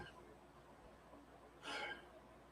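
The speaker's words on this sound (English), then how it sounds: "Have the burps." A single short burp erupts near the end, a brief rough burst that stands out against otherwise quiet room background.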